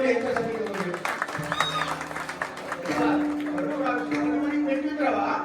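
Applause from the audience at a double-bari bhajan performance, dense clapping heard under ongoing speech and a sustained vocal tone.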